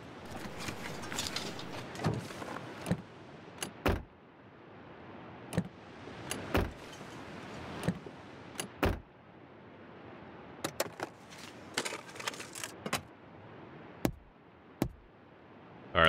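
Searching a car in The Long Dark: scattered sharp clicks, thuds and latch-like knocks of car doors and fittings ring out irregularly against a quiet windy background, some close and loud, others softer.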